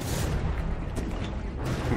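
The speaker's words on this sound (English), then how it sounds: "Cram cannon falls a little bit short there." Cram cannon firing in the naval combat game From the Depths, heavy booming shots over a dense, continuous rumble of battle noise, with no talk.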